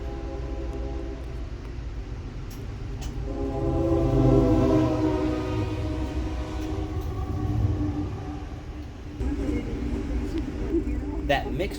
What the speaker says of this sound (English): we would take the siding behind the mixed freight to wait on NS 226 to pass